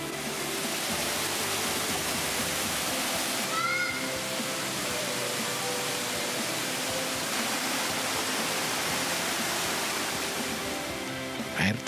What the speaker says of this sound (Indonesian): Air terjun dengan ketinggian 12 meter ini terbentuk secara alami.